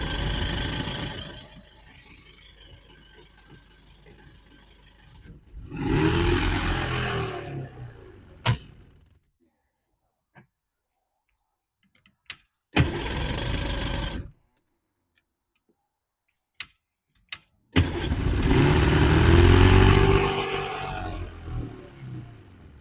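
The two-stroke engine of a vintage speed boat starting and running in short bursts, rough and close, cutting out into silence between runs with a few sharp clicks.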